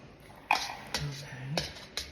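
A slotted spoon stirs and mashes chicken enchilada filling in a pot, giving a few distinct clinks and soft squishy thuds spaced about half a second apart, close and moderately quiet.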